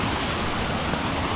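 Sherwood Creek in NSW, Australia, rushing steadily into a hole and down into a pool, a dense, even wash of flowing water heard up close without voices.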